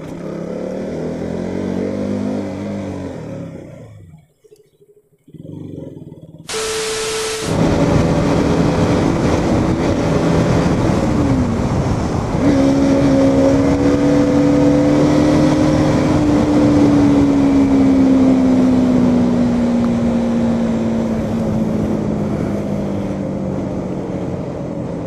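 A KTM Duke 200 motorcycle under way, its engine droning steadily with rising and falling pitch as it shifts through gears, after a brief quiet gap near the start; no one speaks.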